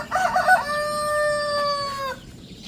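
A rooster kept with backyard livestock crows once, a loud, close, drawn-out call of about two seconds, with no talking over it.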